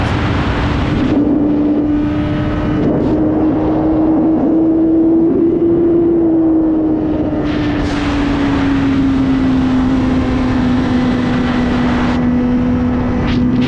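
A motorcycle engine warms up after an oil change, giving a loud, continuous close drone with a steady tone that rises slightly and then settles lower, with no speech.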